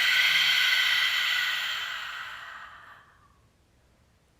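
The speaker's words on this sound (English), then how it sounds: "a few rounds of deep breaths, really cleansing breaths" A deep cleansing exhale released through an open mouth, a loud breathy rush that carries for about two and a half seconds, then fades away into near silence.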